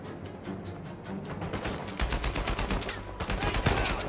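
Gunshots in the video game Uncharted 4: A Thief's End, a fast rattle of repeated shots and bursts over continuous action noise, growing louder and heavier halfway through.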